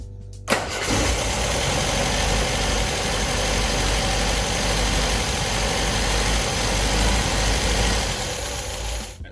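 A 1974.5 MG MGB engine starts with a brief crank and catches, then idles steadily and loudly for several seconds with a rough, continuous rumble.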